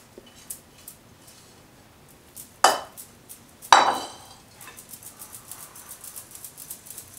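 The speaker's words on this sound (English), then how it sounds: "So we slowly add this and we slowly stir our mixture" Liquid is stirred into sifted flour for fritter batter in a bowl, with a couple of sharp utensil knocks against the bowl and a string of soft, quiet stirring taps, close by and without talking.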